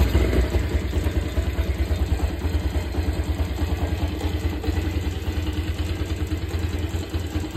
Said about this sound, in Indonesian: Kita coba nyalain motor,